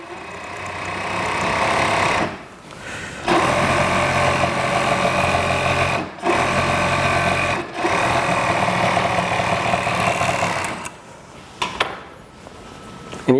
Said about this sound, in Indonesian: Ini saya obras dulu bagian pinggangnya.